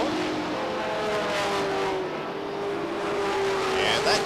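Race cars roar around Beech Ridge Motor Speedway during a 1993 weekly racing event, with loud, close engines droning continuously as the pack pushes through a turn.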